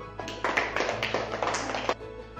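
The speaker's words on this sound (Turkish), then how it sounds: "Kocaman bir alkış." A small group, likely a class of schoolchildren, claps briefly. The burst is quick and fairly close, lasts about a second and a half, then fades into a quiet room.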